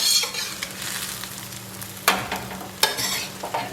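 Meat goes into a roasting pan of Sauerbraten marinade, with a soft continuous wet hiss and a few sharp clattering knocks and splashy bursts spaced out close by, no talking.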